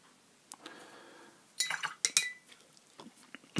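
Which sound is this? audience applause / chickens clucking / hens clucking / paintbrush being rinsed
paintbrush being rinsed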